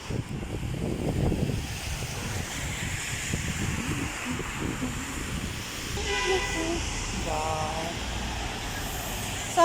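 Heavy rain and wind on a cold day in Abu Dhabi make a steady, broad roar that fills the whole stretch, with louder gusty swells, while a voice speaks briefly near the start.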